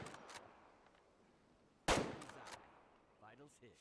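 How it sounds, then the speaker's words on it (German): A single loud rifle shot fired at a deer in the hunting game Way of Hunter, a sharp blast with a short decaying tail, followed moments later by someone speaking. "das war ein guter Schuss."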